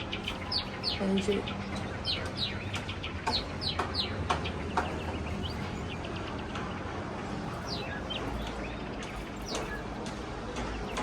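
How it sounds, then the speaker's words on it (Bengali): A pet bird makes repeated chirps and clucking calls, moderately close and intermittent, over a low household background with occasional voices. "আমাদের আলিশা পাখি উঠে গেছে শব্দ পাচ্ছি আমি"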